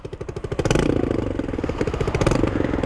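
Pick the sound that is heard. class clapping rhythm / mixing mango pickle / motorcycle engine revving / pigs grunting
motorcycle engine revving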